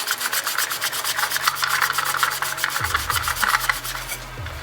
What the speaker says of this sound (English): So I'm just scrubbing that off.